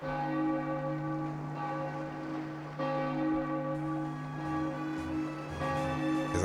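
Church bells ring in the video game Suikoden V, a steady series of clear, sustained tolls that overlap and swell with each new strike, heard alone.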